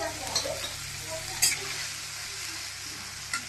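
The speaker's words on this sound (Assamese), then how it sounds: "বিলাহীখিনি 5 মিনিট ভাজি লওঁ।" Tomatoes fry in hot oil for paneer masala, giving a steady soft sizzle with occasional louder crackles and spatters and a few faint stirring scrapes.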